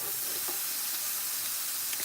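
Pork burgers frying in a pan at a home stove, a steady dense sizzle and crackle throughout with a few faint pops, close and alone without talk.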